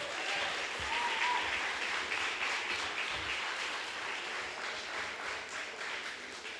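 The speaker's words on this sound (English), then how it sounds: "Give a round of applause again to SG Ghazi." Sustained round of applause from a party congress audience, dense and steady throughout with a faint voice or whistle briefly audible early on.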